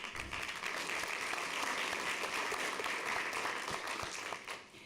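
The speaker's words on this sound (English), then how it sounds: "Congratulations to the Firebirds. You can clap for them," A dense, even wash of applause from a board meeting audience honoring school marching bands, sustained without a break and easing slightly at the very end.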